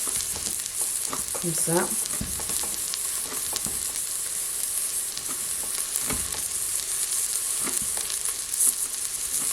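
Onions frying in a pan for a turkey curry sauté, a steady close hiss of sizzling oil with occasional stirring scrapes and clatters, while a voice speaks briefly over it.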